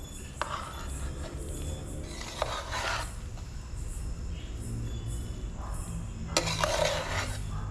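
Cooked rice and lentil rice is stirred in a pot with a spoon, soft scraping and mushy rasping strokes coming in a few separate bursts, close up over a quiet kitchen hum.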